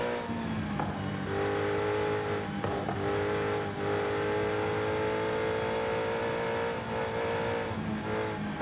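A car engine in Forza Horizon 5 accelerates steadily on a winding mountain pass, its harmonic tone loud and continuous, rising and shifting with gear changes throughout.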